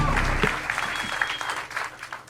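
Comedy club audience applauding and cheering for a comedian taking the stage on a live stand-up show, a dense, steady wash of clapping with some whoops, moderately loud and continuous throughout.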